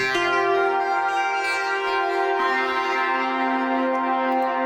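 Cherry Audio Atomika synthesizer plays an ambient key patch drenched in heavy galactic reverb with a slight flange, sustained bright chord tones that shift once midway and ring out in a long, smooth decay.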